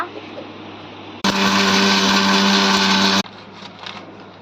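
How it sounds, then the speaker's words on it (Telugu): A kitchen mixer grinder runs in one loud, steady burst of about two seconds while grinding curry leaves with spices and chilli seeds, its motor whine starting and stopping abruptly between quieter room noise. "కరివేపాకుని మిక్సీ వేసుకుంటున్నాము"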